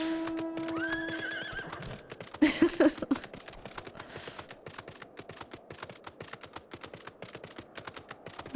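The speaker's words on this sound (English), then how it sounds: "I don't like hearing my horse hurt. It's a terrible sound." A horse whinnies sharply in pain in a video game, followed by a steady clatter of hooves and rhythmic clicks continuing to the end.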